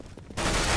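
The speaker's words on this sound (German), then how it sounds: "Der fängt an nachzuladen und schießt einfach weiter." Gunfire in Counter-Strike GO, where a burst of automatic fire suddenly erupts after a quiet moment and continues loud and dense to the end.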